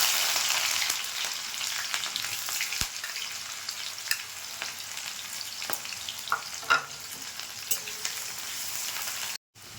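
Whole spices and chopped onion frying in hot mustard oil in a kadai, a steady broadband sizzle with occasional sharp pops and spatters, close and continuous, no voices.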